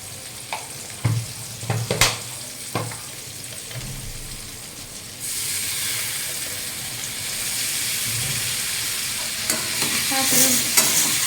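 Coriander and cumin powder stir-fried with spices for a rui fish curry, a steady sizzle with spatula scrapes and taps early on, the frying hiss rising louder and brighter midway and continuing alone.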